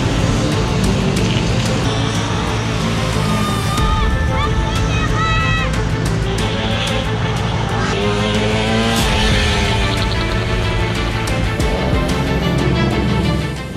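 Vintage 125cc racing motorcycles at a town race in the Vintage Riders Grand Prix blast past loud and close in a steady engine roar with shifting pitch as they pass, under a speaking voice.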